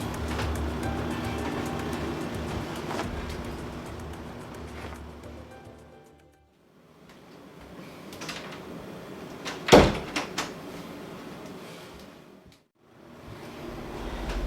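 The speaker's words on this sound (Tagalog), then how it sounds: "Sandali nga, ilalak ko yung pinto." A bedroom door is pushed shut and locked, giving one sharp clunk with a couple of smaller clicks against a steady background hum.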